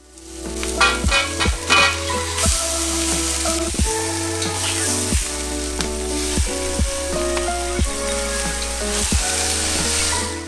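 Pumpkin rice ingredients frying in a pan, with a steady sizzle and repeated scraping stirs of a utensil against the pan in a loose rhythm, close and fairly loud with no voices.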